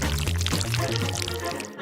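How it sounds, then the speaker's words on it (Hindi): Thick paste poured onto toast on a toy-like food conveyor, a steady continuous pouring sound with a low sustained hum running under it, fairly loud and close throughout. "हम पेस्ट को टोस्ट पर डालेंगे।"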